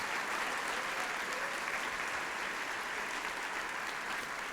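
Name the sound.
congregation applauding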